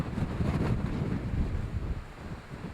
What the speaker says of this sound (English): Wind continues to blow strongly, blowing out.